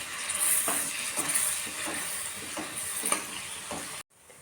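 Ginger garlic paste sautéed in hot oil for a spicy village-style chicken dish, a soft steady sizzle with rhythmic scraping stirs, close, cutting off abruptly near the end.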